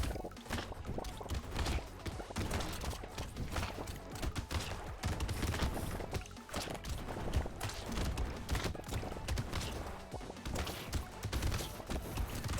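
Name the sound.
ricocheting turret shots in the video game Brotato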